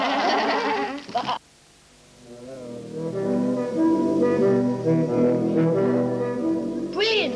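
Sheep bleat close by in a primary school play, a wavering cry, then a pause and a sustained chorus of overlapping bleats with another sharp cry at the end.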